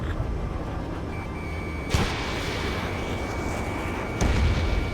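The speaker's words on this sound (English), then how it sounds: "Their artillery fire just missed us off our starboard side" Artillery fire in the Ace Combat 7 video game during an aerial battle, a steady roaring rumble broken by two sharp booming impacts about two seconds apart, no speech.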